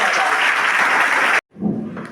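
A school audience applauds a police superintendent at a fitness week event, steady loud clapping that cuts off abruptly, followed by a brief stretch of room sound.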